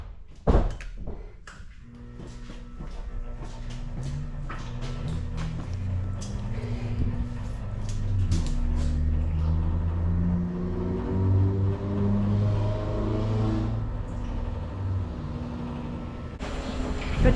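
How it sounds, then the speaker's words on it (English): A milk truck pulls up at a farm, its diesel engine rumbling and rising in pitch as it approaches and revs, after a few sharp thunks and knocks at the start, with no talking. "Here comes the milk truck, right on time."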